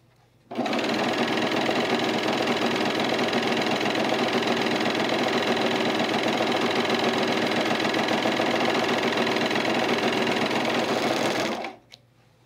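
A sewing machine stitches a seam on men's chino pants in one continuous, even run of rapid mechanical chatter lasting about eleven seconds, loud and close, then stops abruptly with no talk.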